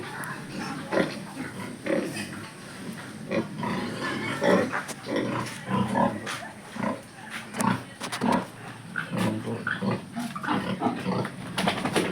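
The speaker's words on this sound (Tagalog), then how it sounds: "samahan niyo po akong bisitahin yung aking mga alagang mga inahing baboy" Breeding sows grunt and snort continuously up close in a pen, with overlapping grunts forming a busy, steady chorus.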